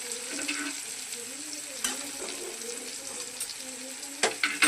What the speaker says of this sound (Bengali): এবার আমি আলু আর বেগুনটাকে দিয়ে দেবো